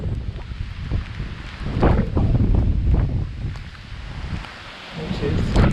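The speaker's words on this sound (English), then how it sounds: "Oh, the wind is coming right at me." Strong gusts buffet the microphone on the wooded summit of Mount Waumbek in New Hampshire, a loud rumbling roar that swells and dips in waves for several seconds, with no clear talk.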